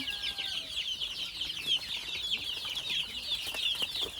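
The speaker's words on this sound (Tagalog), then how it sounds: "ito mga one month old nating mga manok" A flock of one-month-old chickens clucks and peeps continuously, high-pitched chirps overlapping at close range with no talking.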